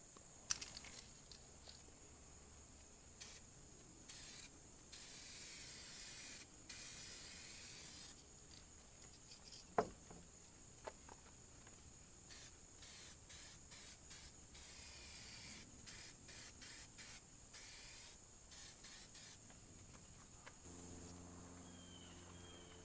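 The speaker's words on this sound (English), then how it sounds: "we're going to go ahead and hit it with the last coat of clear, and then hit it with the blender real fast" Spray can hissing as clear coat goes onto a car fender in a DIY paint repair, a steady close spray in bursts of several seconds with short pauses between passes, no talking.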